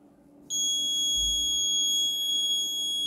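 A temperature alert buzzer on a Raspberry Pi Pico patient health monitor sounding suddenly and holding a steady, piercing high electronic tone, close and loud over a faint background hum.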